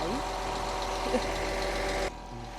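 A truck engine rumbles steadily at a moderate distance, then cuts off abruptly near the end, leaving a quieter low hum.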